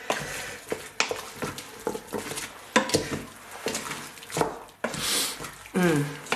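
Frozen spinach and curry paste stirred in an Instant Pot: repeated scraping clinks of a utensil against the metal pot at an uneven pace, close and fairly loud, with a faint sizzle.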